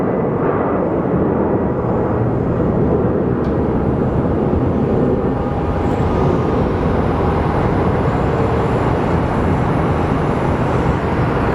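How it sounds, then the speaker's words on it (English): Loud, steady jet roar of an airliner departing Sky Harbor airport, a broad continuous rumble that holds for the whole stretch with no voices over it. "Jeffrey Bezos Airlines is departing."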